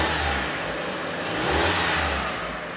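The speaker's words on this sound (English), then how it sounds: "I'm going to rev it again, watch." A car engine revs up and settles close by during a solenoid circuit test, a loud mid-pitched roar that swells twice with no talking over it.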